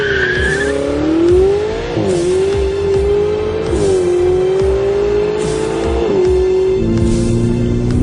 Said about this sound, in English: Acceleration in 5th gear.